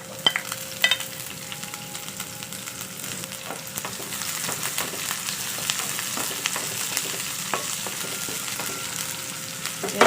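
Garlic and onions fry in cooking oil in a pan, a steady crackling sizzle with scattered pops and light clinks of stirring, with no talk over it.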